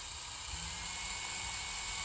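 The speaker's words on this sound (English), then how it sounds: "Now, what I'm doing here is I'm drilling overflow holes." Continuous high-pitched whine of a power drill cutting overflow holes through a plastic bucket, steady and close, with no talking.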